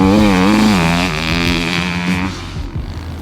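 A 2019 Husqvarna FC350 motorcycle's 350 engine revs high and loud at close range, its pitch dipping and sliding before the throttle drops away into a rougher idle with lower pops.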